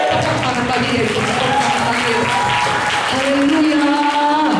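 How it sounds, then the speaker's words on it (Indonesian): A church congregation at an evangelistic revival service in Batam applauds steadily and loudly throughout, with a voice speaking and singing over the continuous clapping. "Tepuk tangan bagi Yesus."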